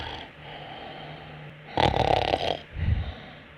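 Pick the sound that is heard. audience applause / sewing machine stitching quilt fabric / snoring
snoring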